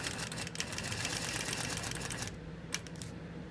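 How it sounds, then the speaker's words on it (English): Sewing machine stitching down a Baptist fan quilting pattern, a fast continuous mechanical whirr with rapid needle ticks that stops near the end, leaving a few brief clicks. "We're going to stitch down."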